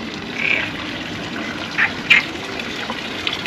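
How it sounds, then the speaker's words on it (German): A few short, bright frog croaks ring out at a garden pond in Mallorca over steady outdoor background noise, spaced irregularly and moderately close. "Da quaken schon die Frösche hier in dem Teich."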